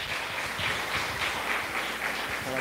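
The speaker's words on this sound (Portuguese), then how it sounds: "Você pode aplaudir ao Senhor." A church congregation at a home worship service applauds steadily throughout, a dense, even wash of many hands clapping at moderate volume with no voices over it.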